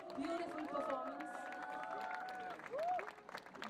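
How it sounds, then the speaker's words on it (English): A crowd applauds after a dance-drama performance at a university foundation day event, a steady wash of clapping and cheering with voices mixed in, moderately distant and faint. "Let us give a bigger round of applause for this beautiful, beautiful performance."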